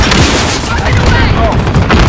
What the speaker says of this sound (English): Rocket away!